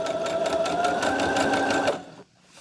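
A sewing machine running steadily at speed, its rapid even stitching rhythm loud and close for about two seconds before it stops.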